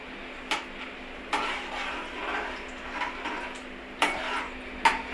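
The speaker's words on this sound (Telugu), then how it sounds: "ఇప్పుడు తాలింపు పేస్ట్ వేసుకుంటాం చూసారా అలా వంట తాలింపులు వేసేద్దాం" Tempering paste for tamarind pulihora sizzles steadily in a hot pan, a continuous frying hiss broken by a few sharp clinks as the ingredients are stirred.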